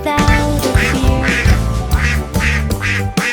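An animated cartoon duck quacks loudly in a rapid, regular series of about eight quacks, up close with nothing else heard.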